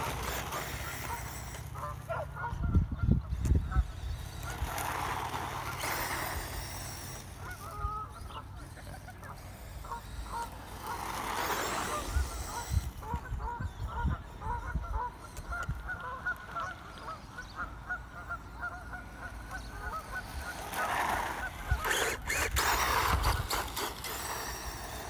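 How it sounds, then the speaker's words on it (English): Geese honk intermittently at a distance over a low background hum, their calls coming in scattered clusters. "geese around here."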